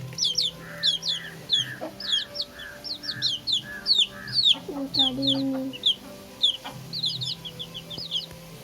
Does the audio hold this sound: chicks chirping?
yes